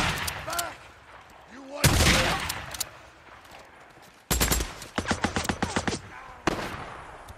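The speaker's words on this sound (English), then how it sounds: "Oh, who's shooting?" In the video game Days Gone, loud gunfire arrives as a heavy blast followed by a rapid rattling volley of repeated shots and a final boom, with a voice briefly heard between them.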